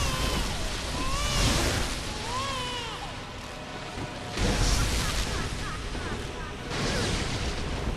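Yharnam, the Pthumerian Queen in Bloodborne, sets off booming explosive attacks in several loud surges over the game's ambient sound, with someone talking in between.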